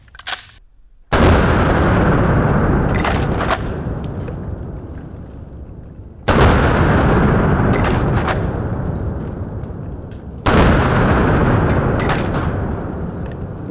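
Three loud, booming blasts from a Winchester 1897 trench gun shotgun, each a sharp report with a long echoing tail, spaced several seconds apart and heard close with no talk.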